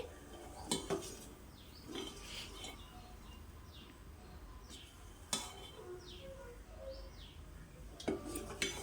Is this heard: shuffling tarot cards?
no